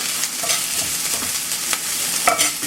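Hash brown ingredients sizzle in a hot cast iron pan while a small spatula scrapes and stirs them, a steady close frying hiss broken by brief metal clinks.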